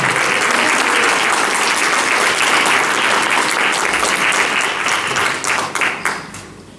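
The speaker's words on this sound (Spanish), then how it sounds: "¿Cuánto le dan un aplauso al Señor para que no se me duerma en esta mañana?" A church congregation bursts into loud, sustained applause with dense overlapping claps, which tapers off and fades toward the end.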